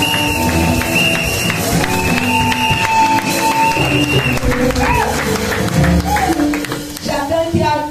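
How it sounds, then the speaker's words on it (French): Congregation clapping along in a church during a Father's Day celebration, steady claps blended into loud singing or music with voices throughout. "Donc applaudissez pour vous-même aussi."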